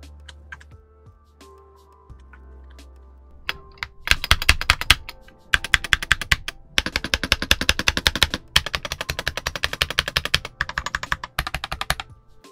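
Fast typing on a Gamakay TK75 HE magnetic keyboard with dry, unlubricated switches and no sound-dampening layers. A few isolated taps come first, then dense bursts of crisp, clacky keystrokes, close and loud, with brief pauses between runs.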